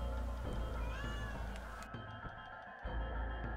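A cat meows in the Legend of Dragoon video game, a couple of faint rising calls set against steady game music and ambience.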